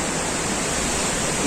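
Water roars out of Indrapuri Dam into the Son river as a loud, steady rushing wash that fills the whole clip without a break.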